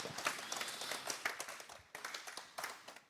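An audience at a talk claps for a guest, a brief burst of scattered, fairly faint applause with a few sharper individual claps, fading in and out.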